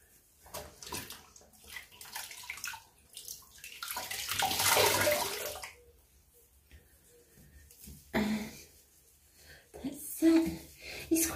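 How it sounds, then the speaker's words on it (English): Running water rinses soap off skin during a facial skincare routine, a close splashing wash that swells to a steady rush in the middle, then returns in shorter bursts. "I just rinse that off until all that soap is rinsed off"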